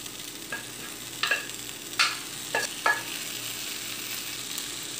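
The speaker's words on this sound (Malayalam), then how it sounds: "ഇനി എല്ലാം കൂടി ഒന്ന് മിക്സ് ചെയ്യാം." Banana peel and green gram stir-fried in a pan for a thoran, with a soft steady sizzle broken by a handful of sharp spatula scrapes and knocks against the pan, and no talking.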